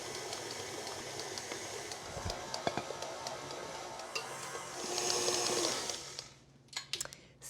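Electric stand mixer beating soft cookie dough while flour is added at reduced speed, a steady continuous whirring hum with rattling, swelling louder for a stretch near the end before dropping off into a few sharp knocks.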